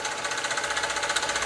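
A British overtype model steam engine runs steadily, giving a fast, even mechanical chuff and clatter with hissing steam, continuous and fairly close, with no talk.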